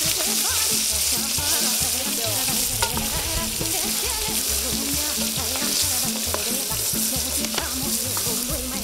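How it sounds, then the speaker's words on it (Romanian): Pork frying in a pan for a Romanian Christmas tochitura, a dense continuous sizzle and crackle of fat close up, steady and loud throughout with no talking. "Aoleo, ce sfârâie!"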